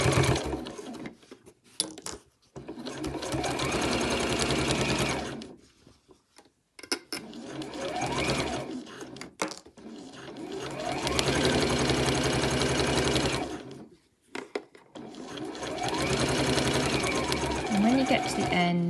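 A domestic sewing machine stitches a zip into the lining of a bow bag in three long, steady runs broken by short pauses, loud and close, with a voice speaking at times.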